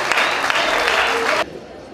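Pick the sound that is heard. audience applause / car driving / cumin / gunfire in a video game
audience applause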